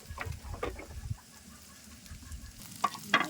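Onion, green chilli and bay leaf fry in oil with a low crackling sizzle and a few spoon scrapes, close by, while a hen clucks faintly in the background.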